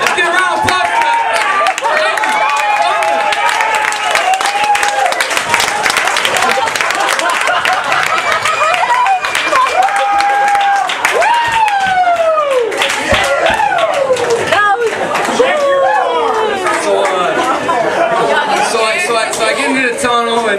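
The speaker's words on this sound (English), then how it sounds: "Let's get a round of applause for that!" A story slam crowd cheers, whoops and claps in a lively, sustained burst, with excited voices and shouts mixed over the applause.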